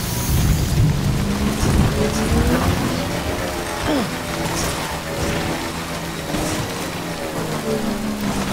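Steady rain falls in the video game Death Stranding, a dense hiss with low rumbles and a few faint creaks, continuous throughout, with no voices.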